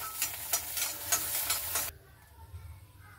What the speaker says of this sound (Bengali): সবার প্রথমে আমি ভেজে নিচ্ছি রসুনটাকে আমি 2-1 মিনিট এইভাবে ভেজে নেব।